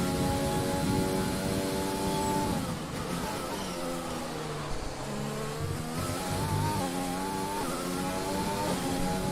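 Formula 1 cars race in the F1 2020 video game, engines screaming with rising and falling pitch through gear changes, steady and loud throughout with no talk.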